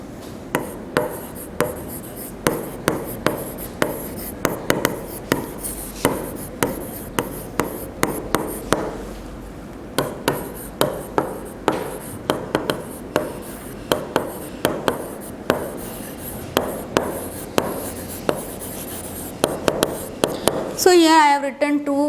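A teacher writing sentences on a classroom board, a long run of regular scratchy chalk or marker strokes with brief pauses, close and steady, with a short scraping rush at the end.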